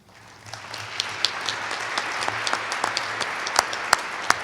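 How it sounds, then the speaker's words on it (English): A conference audience applauds an energy panel, the clapping swelling from a quiet start into a steady, fairly loud patter of many hands with a few sharp individual claps standing out. "a round of applause for our whole panel"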